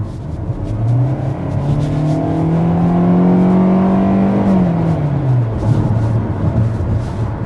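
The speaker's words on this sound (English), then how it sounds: "we're going to start with a hard acceleration" A 2024 Kia Soul accelerates hard, its engine droning up in pitch, holding, then dropping as the transmission shifts, with steady road and wind noise throughout.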